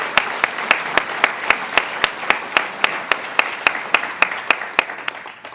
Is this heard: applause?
yes